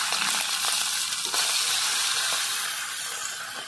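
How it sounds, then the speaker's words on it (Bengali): Bele fish frying in hot oil, a bright, continuous sizzle and spatter close by that fades slightly toward the end, with no speech. "আমি মাছ দিয়ে দিচ্ছি এক এক করে তেলের উপরে।"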